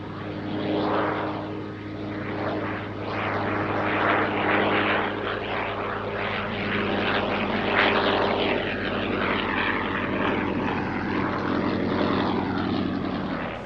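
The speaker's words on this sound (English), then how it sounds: "this German fighter, the Fokker DR-1 triplane" A Fokker DR-1 triplane, the German World War I fighter, flies past at an air display. Its propeller engine drones loudly and steadily, swelling and fading slightly as it passes, with no voices.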